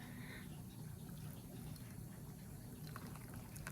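Purple tea from Kenya is poured from a teapot into a glass, a very faint, steady trickle of liquid over a low background hum.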